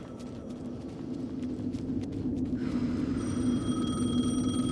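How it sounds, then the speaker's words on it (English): A telephone rings in the video game Alan Wake 2, its bell tone starting partway through and repeating over a steady, rumbling ambient background at moderate loudness. "The phone again."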